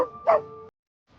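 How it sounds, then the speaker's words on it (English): A single dog bark, a short bright yip with a clear tonal whine, rings out once and stops, followed by silence. "This is dog."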